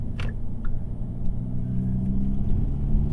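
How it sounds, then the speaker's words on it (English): A Mazda RX-8 rotary engine idles close by as a steady low rumble with a faint hum, a couple of small clicks early on. "It's an RX-8."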